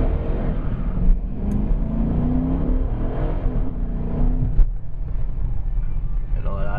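A 2013 Dodge Charger R/T Plus with the Hemi V8 and stock exhaust launches from a dead stop on snow, a deep rumbling engine note building under acceleration, heard from inside the car with a brief voice over it.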